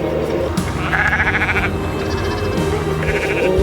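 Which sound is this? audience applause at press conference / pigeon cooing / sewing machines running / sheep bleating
sheep bleating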